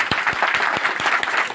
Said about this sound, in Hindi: इनके लिए क्लैप और ताली बजाएंगे